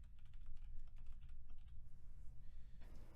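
Quick, steady tapping on a computer keyboard while code is entered, soft and close, a continuous run of keystrokes heard alone.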